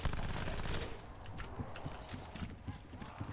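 Drum-magazine gun firing in the video game Voyage of Despair: rapid, repeated shots in an uneven rattle, fairly faint, with a voice talking over them.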